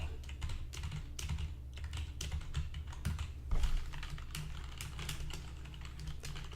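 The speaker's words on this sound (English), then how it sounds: "And typing. How do you feel about typing?" Typing on a computer keyboard, close and soft: steady, rapid key clicks in an even patter with a few slightly heavier strokes, quiet and with no talking.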